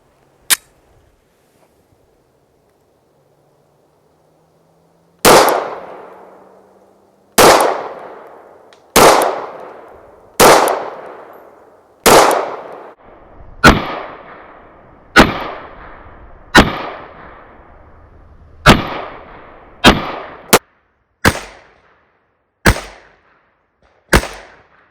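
Springfield Armory Hellcat Pro 9mm pistol fired at a range: after a few seconds of near silence, around fourteen sharp, loud shots ring out one after another, spaced roughly a second apart, each with a short echoing decay.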